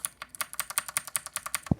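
A lightly lubed mechanical keyboard switch with its keycap on is pressed repeatedly in a steady rhythm, giving close, crisp clacks and ending in one louder, deeper thock.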